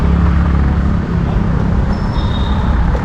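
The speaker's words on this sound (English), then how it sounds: "the video is gonna be very noisy with all the traffic jams" Busy street traffic in Kolkata near Howrah Bridge, a loud steady roar of engines and rumbling vehicles with a brief high whine partway through, continuous throughout.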